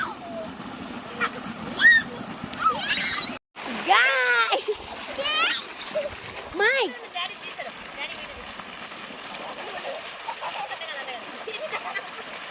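Children splash and play in water gushing from a farm motor pump in a mango orchard, irregular bursts of close splashing mixed with excited children's voices and cries, while a rooster or chickens are faintly audible.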